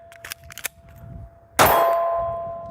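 A pistol magazine, dumped from a small carry gun, drops and strikes the ground with one sharp metallic clang that rings and fades, preceded by a few faint handling clicks.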